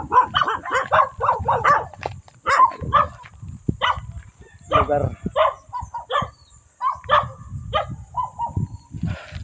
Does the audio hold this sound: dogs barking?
yes